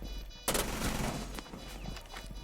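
Gunfire erupts in a competitive esports shooter match, a sharp burst that rings out abruptly and is followed by a few scattered fainter shots over a noisy background.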